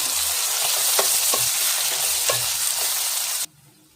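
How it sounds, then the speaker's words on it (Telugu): Curry leaves fry in hot oil while a broad beans tomato curry is being made, giving a loud continuous sizzle with a few light stirring clinks, cutting off abruptly near the end. "పైనుండి కరివేపాకును కూడా వేసుకొని ఆయిల్లో అయితే వేగనివ్వాలి"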